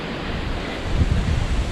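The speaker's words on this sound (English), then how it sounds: "cold and windy, but not raining at the moment" Cold wind buffets the microphone along the Appalachian Trail, a continuous broadband roar that swells and gusts louder partway through, with no voices.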